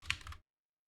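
A computer keyboard gives a quick burst of a few close typing clicks lasting under half a second, then silence.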